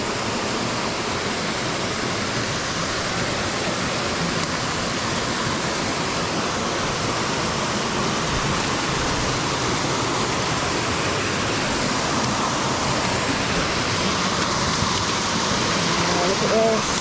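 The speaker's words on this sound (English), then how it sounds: "Oh, look at this lovely waterfall." Mountain waterfall on a hike above Lake Como, a constant broadband rush of falling water, steady and fairly close throughout, with no pause.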